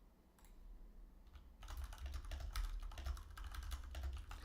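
Rapid clattering keystrokes on a computer keyboard during a live futures trading session, faint at first and then a dense, continuous burst of close typing with no talk.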